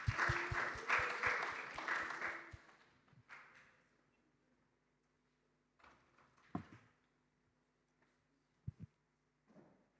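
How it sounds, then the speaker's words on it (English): Audience applause for a presenter at a cryptography summit, a dense burst of clapping for about two and a half seconds that quickly fades, followed by scattered faint thumps and handling noises in a quiet room. "Please give a round of applause for Vanishri."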